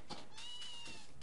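A cat meowing in the farming video game Harvest Moon A Wonderful Life, one drawn-out, clear meow with a rising and falling pitch, close and alone.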